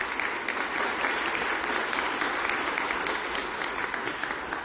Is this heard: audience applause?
yes